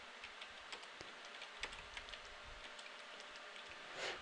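Light, quick key clicks from a Commodore 64 keyboard, a scattered run of soft taps at close range, faint against a quiet background.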